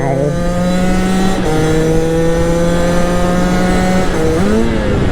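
Beta Track 70 moped with an AM6 engine revving hard under acceleration, a loud continuous two-stroke drone with rising pitch that briefly drops at gear changes before climbing again.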